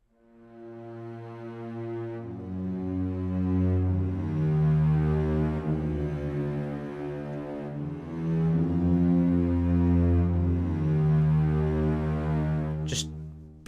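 A sustained string consort from music composition software plays slow, swelling chords with smooth bowed tones rising and falling in loudness, with no voices, ending with a brief click.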